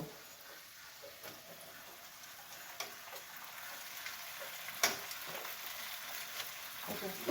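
Pasta tipped into a pan of frying spices, a low continuous sizzle with scattered light ticks and clinks of stirring, fairly quiet and close.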